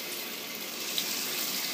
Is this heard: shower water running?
yes